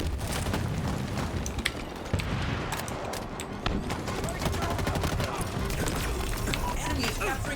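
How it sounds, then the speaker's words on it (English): Multiplayer Halo match with several players lobbing grenades at a capture point: dense, continuous bursts of gunfire and sharp explosion cracks pile up at moderate level, with no talking over them. "Because there's 8 people all just tossing grenades into that shit."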